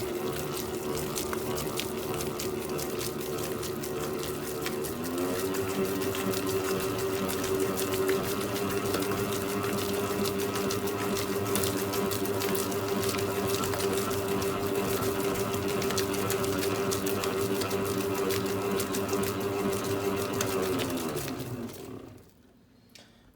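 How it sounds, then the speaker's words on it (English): Porridge is mixed into rye sourdough dough made with freshly rolled rye kernels, a steady mechanical whirring churn that runs for about twenty seconds before cutting out. "So I'm just going to quickly mix in"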